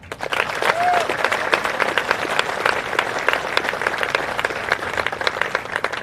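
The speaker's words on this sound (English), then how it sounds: "Let's give the Redlegs a big round of applause." A crowd applauds the Redleg artillery soldiers at an award ceremony on Fort Sill's Old Post Quadrangle, sustained many-handed clapping close by with a few brief cheers mixed in.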